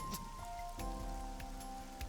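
Rain pelts a parasol in the video game AI: The Somnium Files, a steady, dense patter that continues throughout under a sustained musical tone.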